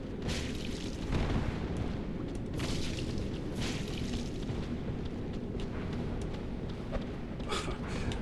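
A fire attack in Dark Souls Remastered bursts into a fairly faint, sustained roar of rumbling blasts, with a few sharper pops scattered through it.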